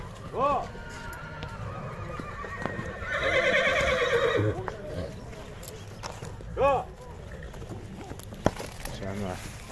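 Horses at a horse market near Bishkek whinny in short bursts, with a longer neigh in the middle, over hoof clatter and background noise while people talk.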